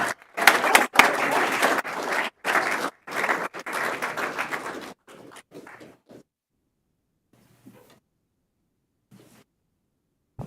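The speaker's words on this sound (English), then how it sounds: "How about a round of applause?" A crowd at a school board meeting applauds for about five seconds in loud bursts, then the clapping thins and fades to scattered quiet sounds.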